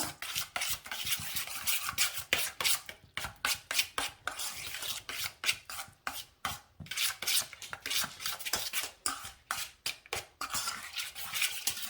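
A cranberry meatball sauce is stirred in a bowl with a utensil, producing quick, rhythmic clinking and scraping strokes close up, repeated throughout without pause.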